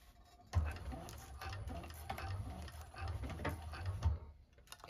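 A 1341 cylinder arm sewing machine stitches down a bag seam, its needle tapping in a fast, steady mechanical patter close by for about four seconds before stopping. No one talks.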